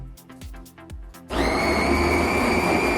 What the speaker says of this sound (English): Switch on the coffee machine.